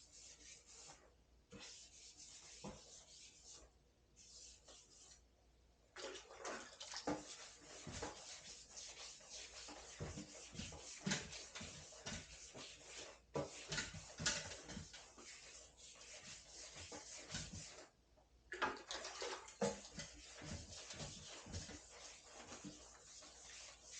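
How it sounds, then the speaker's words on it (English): Repeated rasping strokes of wet block sanding with water on a 1983 GL650 motorcycle gas tank, in rhythmic bursts with short pauses, fairly close and steady throughout. "Block sanding with water, I feel, is the best."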